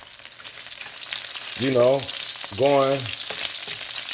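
Pepper beef sears in a hot pan with a steady, close sizzle and hiss running throughout, while someone speaks briefly over it.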